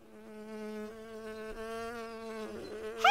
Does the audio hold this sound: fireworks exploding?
no